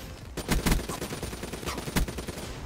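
Gunfire in a first-person shooter video game, a rapid burst of loud shots fired from the hip, followed by several more sharp reports scattered across the stretch.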